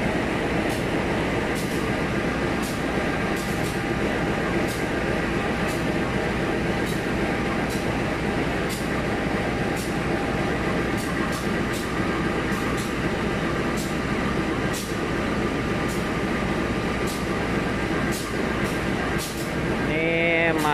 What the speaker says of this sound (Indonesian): proses pengecekan CC203 ya guys, lokomotif 203 ya